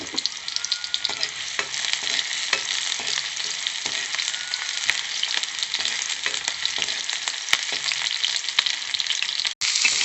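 Onions frying for chowmein in a pan: a loud, constant close-up sizzle with occasional scraping from stirring, and no voices.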